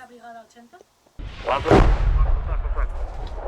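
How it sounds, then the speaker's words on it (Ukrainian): After a brief spoken phrase and a moment of silence, a heavy gunshot-like blast booms out, followed by a long rumbling roll that slowly fades. "Отак само, як ти стріляв, Паш."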